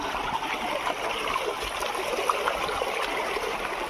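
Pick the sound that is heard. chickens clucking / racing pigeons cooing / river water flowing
river water flowing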